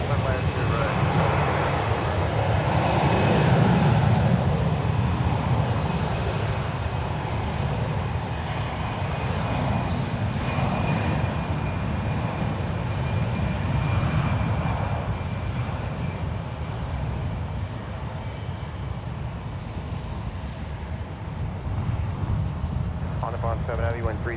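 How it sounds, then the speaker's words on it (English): Alaska Airlines Airbus A320 taking off from San Francisco International Airport, a steady distant jet engine roar rumbling throughout with a faint air traffic control voice talking over it. "There goes Alaska 236 off to Las Vegas in that Airbus A320."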